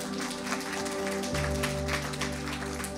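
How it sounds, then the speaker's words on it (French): A church congregation claps to welcome a newcomer, dense steady applause filling the room over a sustained musical tone underneath. "On peut l'applaudir."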